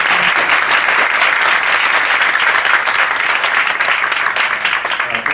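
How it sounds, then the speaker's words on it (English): Sustained, loud applause from a panel audience at a Harvard conference session, a dense wash of many hands clapping evenly throughout. "Please feel free to give everybody a round of applause."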